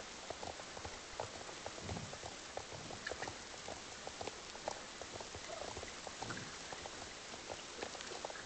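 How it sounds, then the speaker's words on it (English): Steady rain in the online horse-riding game Star Stable Online, a soft continuous patter of drops with faint clip-clop-like ticks, moderately quiet and unbroken, no talking. "Oh, it's raining."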